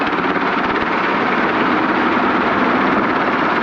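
A helicopter engine runs steadily on the landing pad before takeoff, a dense, loud and continuous rotor-and-turbine roar with no break, heard close by and without voices.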